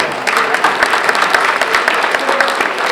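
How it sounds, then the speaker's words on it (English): Guests at a holiday luncheon clap loudly in a dense, continuous round of applause that fills the room for the whole stretch, with a faint murmur of the crowd beneath it. "You guys deserve just a big round of applause."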